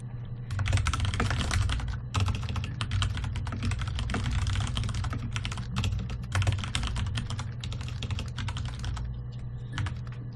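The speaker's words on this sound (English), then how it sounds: "I love the typing noises in the game." Keyboard typing in the video game Her Story: rapid, crisp key clicks in quick bursts, continuous and close, with no voices over them.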